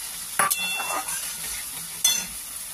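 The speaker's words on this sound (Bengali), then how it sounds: "ভালো করে এটা দিয়ে নেড়ে নেড়ে কষে নেব।" A soft sizzle of spice paste frying in a pan with a couple of sharp scrapes as a utensil stirs the mixture.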